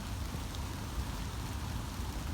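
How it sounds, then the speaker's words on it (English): Rain in the woods makes a steady, soft hiss with a low rumble underneath, an even wash of sound with no talking. "And there's the rain coming."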